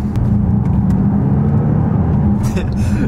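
A 700 bhp Audi S8 engine roars and rumbles loudly as it accelerates through a tunnel, echoing, with a steady low drone throughout.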